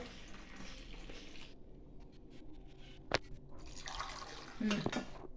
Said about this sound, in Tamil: கலக்கியாச்சு காஃபி, இதில் ஊற்றிக்கிறோம்.